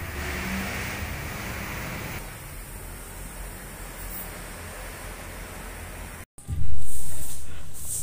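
Loud, steady rumble of a 2012 Honda City's aftermarket exhaust muffler idling, then after a brief cut a sharp rev surges up and slowly tapers off.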